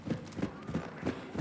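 Rhythmic hoofbeats clip-clop steadily at a trot in the video game Hunt: Showdown, five or six soft thuds close by, with no voices.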